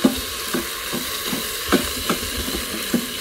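Onions and flour frying in a quick cooker, a steady sizzle with repeated scraping stirs about every half second, close and alone.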